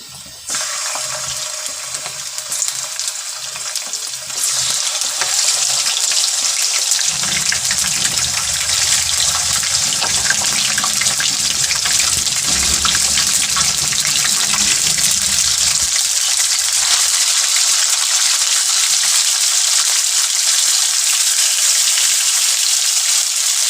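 Chicken is added to spiced masala in a pan and fries with a loud, steady, hissing sizzle that surges after a few seconds and keeps going unbroken to the end.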